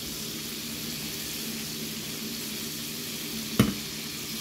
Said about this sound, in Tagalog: Ingat kayo sa pagprito, guys. Kasi yung minsan, tumatalsik yung oil.